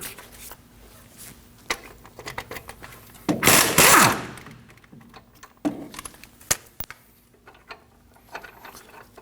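A socket wrench with a 21 mm socket loosens caliper bracket bolts on a 2009-2014 Ford F-150 front hub, a brief loud ratcheting burst amid scattered metallic clicks and handling noises, no talking.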